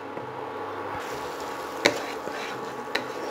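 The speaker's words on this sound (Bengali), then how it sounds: "আবার 3 থেকে 4 মিনিটের জন্য এটা আমি কষতে দেব।" Masala frying and being stirred in a pan for an egg curry, a soft steady sizzle with a few sharp scrapes and clinks from the stirring.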